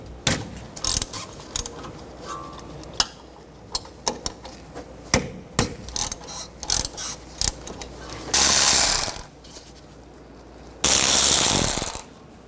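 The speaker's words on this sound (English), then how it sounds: "Now use a 7mm hex socket and take those two pins out." Ratchet wrench fitted with a 7mm hex socket backs out the brake caliper guide pins on a 2005-09 Volkswagen Jetta, giving loud repeated clicking pawl bursts with metallic knocks and two sustained harsh mechanical stretches.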